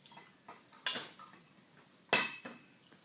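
A metal cooking pot handled with clanks, two sharp loud clatters standing out among softer knocks and scrapes, close by.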